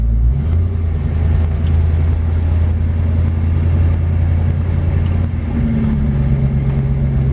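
A 1932 Ford Deuce roadster engine runs as a steady, loud, close low rumble, holding an even drone with a slight shift in pitch near the end as it changes gear.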